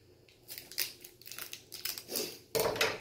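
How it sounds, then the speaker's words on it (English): Packing tape being pulled and cut while a comic book is wrapped for shipping: close, faint crinkling and snipping in short irregular bursts, ending in a louder rasp. "take some more tape, and I'm going to cut it"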